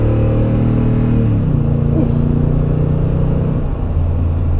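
A Toyota Tundra pickup truck engine rumbles loudly and close as it accelerates from a stop at under full throttle, its pitch climbing and dropping once at a gear change.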